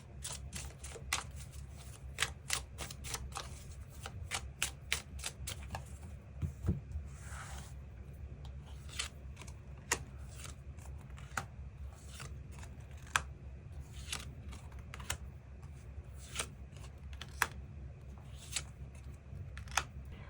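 Tarot cards are shuffled and drawn in a quiet room, with bursts of rapid riffling flaps followed by scattered single slaps and slides of cards set down, close and crisp over a low steady hum.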